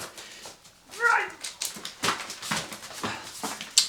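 Dogs indoors during a bathroom renovation whimper with a rising whine, then give a few short yips and barks amid shuffling and household noise.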